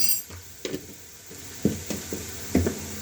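Onions browned in oil in a pan for chana dal as a spoonful of garam masala is added, soft frying under several clinking stirs and scrapes of a metal spoon against the pan, with no voices.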